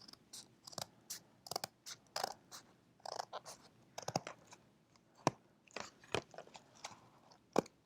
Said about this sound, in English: you want to make sure you trim it up